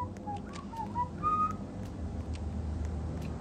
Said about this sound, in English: Enough with the whistling.